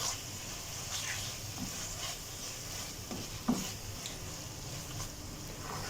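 Ground raw mango paste frying in a pan with okra, a soft continuous sizzle with occasional stirring scrapes and one sharp clack, fairly quiet and steady throughout.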